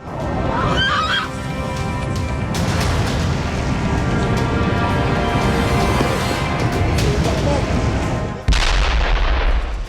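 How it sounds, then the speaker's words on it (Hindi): Explosions and fire at a Russian oil refinery after a drone attack, heard as a dense, continuous roar of blasts and crackling bursts with a sharp louder burst near the end, no talk. "हमले के बाद रूस के ऑयल रिफाइनरी में विस्फोट हुआ और फिर जबरदस्त आग के शोले उठने लगे।"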